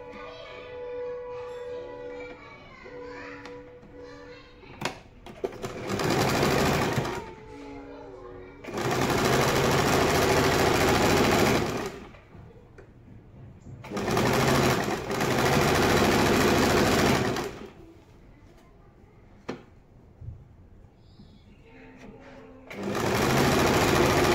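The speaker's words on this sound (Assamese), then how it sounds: "এতিয়া এইটো চাইডো একেভাগে চিলাই ল'ম" A sewing machine stitches the side seam of a blouse in loud, steady runs of several seconds each, separated by pauses in which a person talks over quieter room sound.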